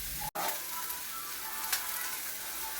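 Chopped vegetables frying in oil for fried rice, a continuous even sizzle with a brief dropout near the start and light crackles, close and alone.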